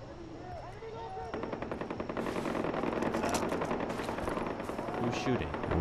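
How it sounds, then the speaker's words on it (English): Gunfire in Far Cry 4 builds into rapid, rattling automatic bursts that keep going over several seconds. Quieter game sounds come first, and a voice speaks faintly beneath the shooting. "Where are they shooting at?"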